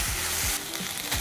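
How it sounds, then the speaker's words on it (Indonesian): Broccoli and cauliflower stir-frying over high heat for fried rice with chop suey, a loud, close, continuous sizzle with brief scraping stirs cutting through, no voices. "Ini gue masaknya di api besar biar agak goreng ya"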